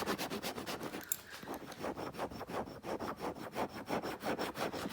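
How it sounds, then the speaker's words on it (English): A metal key scraped repeatedly across a dyed leather surface with a protective coating, making a fast run of rasping strokes, close and fairly loud, with no talking. "That's scratching it with a key."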